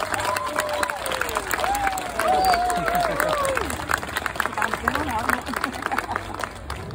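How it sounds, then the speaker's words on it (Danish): Audience applause with cheering fills a room after an award presentation, loud and continuous, mixed with crowd babble and a few whistles over several seconds. "Jeg tænker, at de godt kan tåle et rigtig stort bifald en gang mere."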